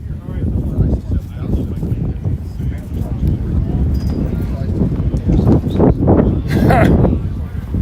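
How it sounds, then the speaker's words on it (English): Wind buffets a camera microphone outdoors at an amateur radio flea market, a steady loud low rumble with gusty surges throughout, swelling strongest near the end. "This is not me shaking the camera, this was the wind."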